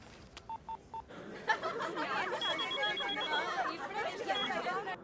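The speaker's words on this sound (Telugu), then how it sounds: "ప్రస్తుతానికి ఫోన్ చేస్తా." Telephone tones from a call: three short, evenly spaced beeps ring out clearly, then people talk over a steady murmur of voices in a busy airport.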